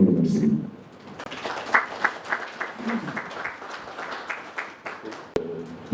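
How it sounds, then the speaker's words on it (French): Audience applause at a CEEAC commission retreat in Libreville, Gabon, a steady wash of many hands clapping after a speech, moderately loud and mixed with some voices. "Merci pour les applaudissements."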